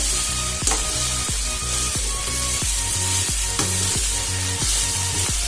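Taro and chickpeas fry in a pan with a steady loud sizzle, broken by regular scraping strokes of a spatula stirring every half second or so.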